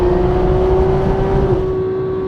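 A Porsche 991 GT3's engine pulls hard, heard from close by as a loud, steady, high-pitched howl that eases slightly near the end, with no talking.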